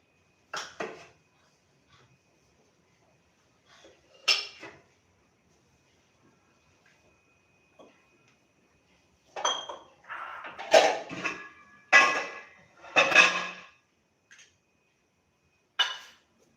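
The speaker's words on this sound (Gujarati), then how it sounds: "આપણું રાઈ જીરું સરસ સોતળાઈ ગયું છે તડતડ અવાજ આવવા માંડ્યો છે" Mustard seeds and cumin crackle in hot oil for a semolina dhokla tempering, with sparse sharp pops at first that turn into denser clustered spluttering bursts close by.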